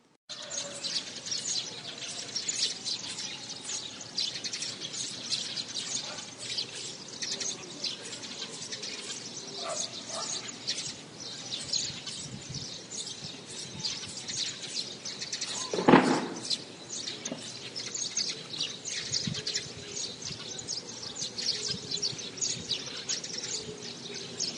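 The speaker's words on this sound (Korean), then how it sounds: "굉장히 용인의 새들보다 더 활발한 새소리인 것 같고요" Birds chirp and call busily outdoors in Iksan, Jeolla province, with a dense, continuous chorus of high twitters at moderate distance and one louder nearby call standing out briefly.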